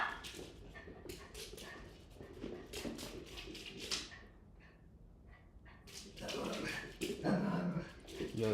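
Dog whimpering with short snorts and occasional barks, fairly close and moderately loud, coming and going over about eight seconds under a man's intermittent speech.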